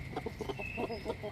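Backyard homestead chickens give a rapid string of soft clucks, fairly quiet and close, with no voices over them.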